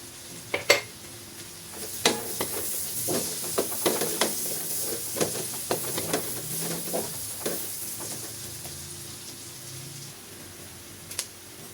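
Chopped onion sizzling in a hot pan for Batangas-style beef kaldereta, a steady frying hiss broken by sharp scrapes and clinks of a utensil stirring against the pan, with no talk.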